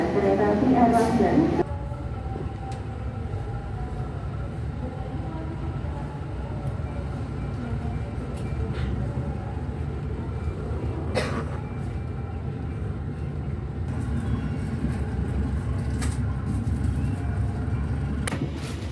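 The new Airlangga passenger train from Surabaya to Jakarta rumbles steadily along the rails, a continuous low roar with occasional clanks and squeaks, heard from inside a carriage.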